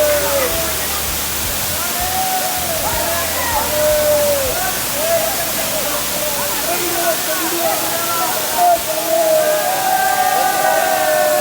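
Waterfall at Chandranath hill in Sitakunda, Bangladesh, a steady broadband rush of falling water throughout, with voices and crowd chatter mixed in over the roar.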